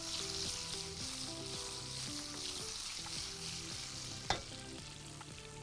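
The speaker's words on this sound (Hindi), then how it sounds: "दूसरी जानिब ज़रा बैगन को भी अप एंड डाउन करते रहिए ताकि हर तरफ से अच्छे से ये फ्राई हो जाए" White eggplant frying in oil in a pan, turned over now and then, giving a steady close sizzle with a sharp scrape or clack partway through while music plays softly underneath.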